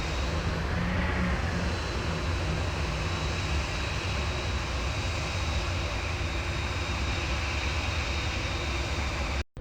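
A jet airliner rolls out after touchdown with engine reverse thrust, giving a loud, sustained broadband roar and whine that holds steady before cutting off abruptly.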